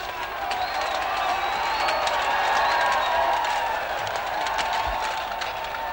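A crowd of rioters clashing with police in 1983, heard as a dense, steady roar of many voices with scattered shouts and clatter throughout.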